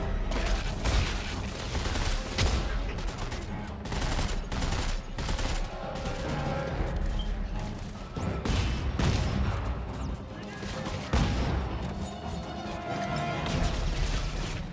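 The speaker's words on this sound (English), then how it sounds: "Oh god, grenade!" A grenade blast and heavy gunfire in the video game Dead Space 3: dense, loud bursts of shots and crashing impacts keep coming for about fifteen seconds, with rough swells and sharp hits throughout.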